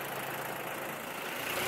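A 1.7-liter three-cylinder diesel tractor engine idles steadily with a continuous low chugging rumble, close and even, with no talking.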